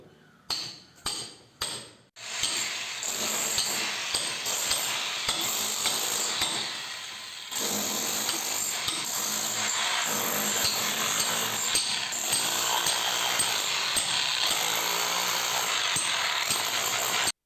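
A power tool with a five-inch blade chips into a balcony wall for grill installation; a few sharp knocks come first, then a loud, continuous grinding roar with rough rhythmic chatter, close by and alone.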